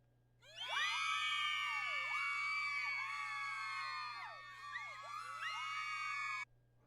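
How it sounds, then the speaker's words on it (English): A crowd cheer sound effect is played during a Conan Exiles livestream: loud, sustained shouting, screaming and whooping from many voices that runs for about six seconds and then cuts off abruptly, with no talk over it. "Play the cheer for you."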